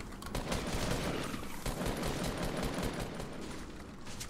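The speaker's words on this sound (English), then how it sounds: "I'm getting shot at." Sustained automatic gunfire in Fortnite, a dense, continuous rattle of rapid shots at steady loudness throughout, close and unbroken.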